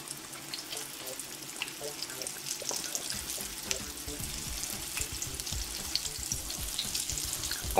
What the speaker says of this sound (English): Go ahead and get it on up into the oil here.